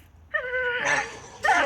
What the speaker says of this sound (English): Go back to the truck because they gonna bark at you.